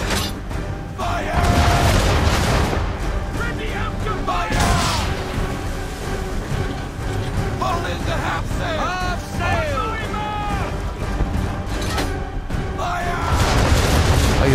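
Ship cannons in Assassin's Creed III fire on frigates in a run of deep booms over crashing sea and battle noise, with voices talking throughout.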